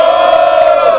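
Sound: crowd cheering at a rap battle

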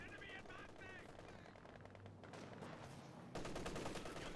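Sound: machine gun fire in strategy video game

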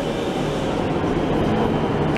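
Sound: train passing

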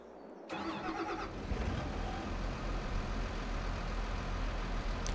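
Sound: tractor engine starting in Farming Simulator 22 video game

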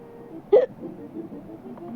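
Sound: hiccups

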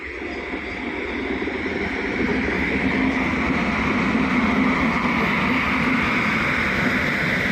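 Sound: RoRo freight train carrying trucks passing

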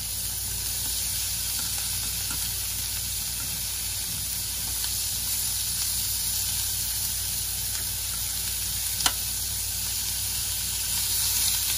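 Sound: asparagus searing in butter and oil in a pan

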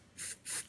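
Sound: hair spray being sprayed onto an ink stain

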